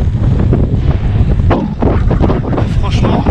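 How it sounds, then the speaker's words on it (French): A cold headwind buffets the microphone of a rider bikepacking on a gravel route in Flanders at sunrise, a loud, continuous roaring rumble that swells and dips without a break. "il y a un vent de face là"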